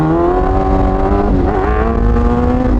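A motorcycle engine is held at high revs for a loaded clutch-up wheelie, a loud, close, steady droning tone with a slight pitch dip midway and no pause.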